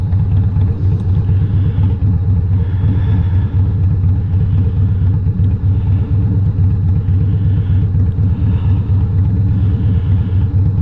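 A motorcycle engine runs loud and close in a steady, deep throbbing rumble that holds without letup, with no voices.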